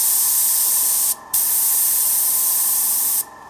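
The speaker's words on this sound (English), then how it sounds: "What I directly noticed was that the airflow already sounds way smoother than my other airbrush" A Harder & Steenbeck Evolution CR Plus airbrush spraying paint with compressed air, giving a loud, even hiss with two brief pauses where the trigger is released.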